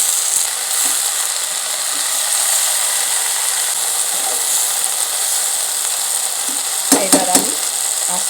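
Bitter gourd and water spinach being stirred and fried in a pan, a continuous gentle sizzle with faint scraping, ending in a brief cluster of louder clattering knocks near the close.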